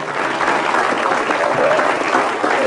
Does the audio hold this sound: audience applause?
yes